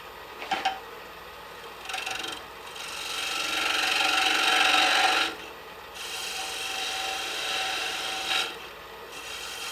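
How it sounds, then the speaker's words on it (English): A detail gouge carves wood on a small birdhouse ornament, making a few sharp taps followed by long, rasping scraping strokes separated by brief pauses, heard close up with no talking. "And we can do that with our detail gouge."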